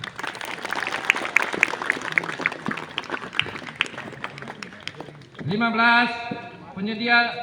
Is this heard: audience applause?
yes